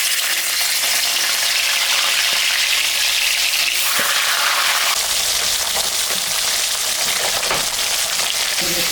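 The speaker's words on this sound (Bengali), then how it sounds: "তেলটা গরম হয়ে গেছে, মাছের মাথাটা এখন ভাজবো।" A fish head frying in hot white oil in a kadai gives a loud, steady sizzle and crackle that carries on for the whole stretch, with no voices over it.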